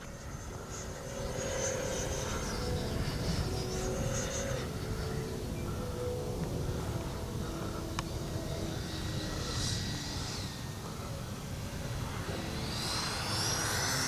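A Freewing F-14A Tomcat RC jet comes in to land, its engine whine holding at a steady medium distance and shifting pitch slightly as it passes, with nobody talking.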